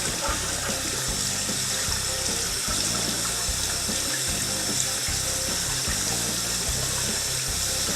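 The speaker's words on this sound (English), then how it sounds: "we're going to come over here and turn on some cold water" Cold water gushing steadily from a kitchen tap into a sink, close and continuous, with a low rhythmic rumble beneath the splashing flow.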